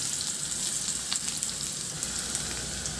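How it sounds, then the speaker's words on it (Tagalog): Garlic sizzles steadily in hot cooking oil in a pan, a bright, continuous frying hiss with small crackles and pops and no voices. "Sa isang kawali, maglagay ako ng mantika at igisa ko na rin yung bawang."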